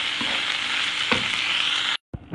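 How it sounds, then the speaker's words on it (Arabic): Onions fry and are stirred in a pan for tartiflette. A loud, steady sizzle carries a couple of stirring scrapes, then cuts out for a brief moment before resuming, with no talk. "وغادي نقليهم مزيان مع البصله"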